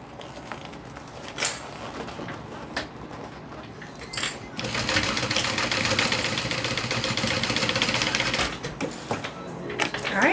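A domestic sewing machine runs in short bursts with faint clicks between, then stitches steadily for several seconds before slowing and stopping.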